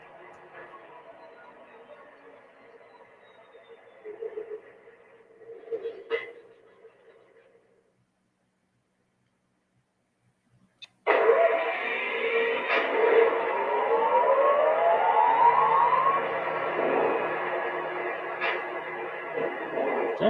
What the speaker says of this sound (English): Let me shut it down just so you can hear what the shutdown and startup sequences sound like, pretty much on the generators.